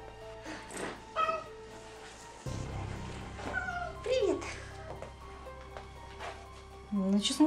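Several cats meow repeatedly in an apartment, with rising and falling cries scattered across the stretch, mixed with a low background hum and occasional indoor noises.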